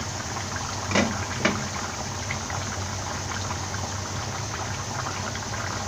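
Kerala-style mutton stew simmering in a pot, a steady soft bubbling hiss throughout, broken by a couple of brief utensil clinks early on.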